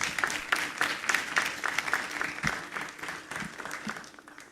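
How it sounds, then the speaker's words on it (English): Round of applause from the audience at a Ghanaian awards ceremony as the group chairman is welcomed on stage: steady, moderately loud clapping with distinct individual claps, fading toward the end. "Please welcome him on stage with a round of applause"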